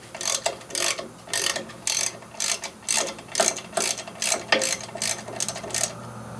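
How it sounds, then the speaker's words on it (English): Ratchet loosening wheel cylinder bolts on a 1985 Chevy K10 during restoration, with a dozen or so quick bursts of close clicking strokes separated by short pauses. "I'm going to go ahead and loosen up on these 2 3/8 bolts"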